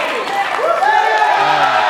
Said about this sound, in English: Fans can clap all they want.